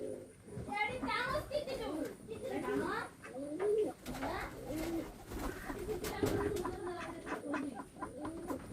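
Free-flying pigeons feeding, with soft, repeated cooing close by and a person talking over them.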